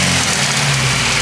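A 2000 Honda Civic Si engine runs steadily at idle, a loud, close, even mechanical drone with a low hum and no voices, the motor sounding healthy after sitting unused for days.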